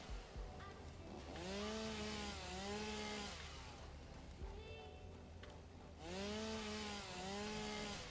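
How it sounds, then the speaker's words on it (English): A malfunctioning chainsaw cutting trees runs with a rising and falling engine whine that revs in repeated surges, fairly distant and under a man's speech. "This chainsaw is so screwy"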